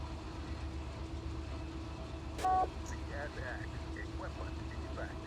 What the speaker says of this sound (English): Equipment defect detector.